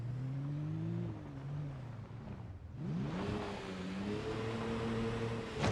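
Truck engine in the video game Project Zomboid, a steady low drone that dips briefly then rises again as the vehicle revs and accelerates, loud and continuous with no talk.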